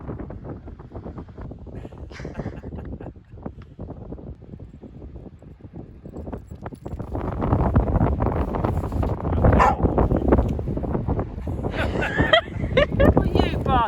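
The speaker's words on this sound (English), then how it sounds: "What are you barking at?" A dog barks outdoors on the Cornwall coast amid gusting wind noise, the barks coming irregularly and partly masked by the wind, which grows louder toward the end.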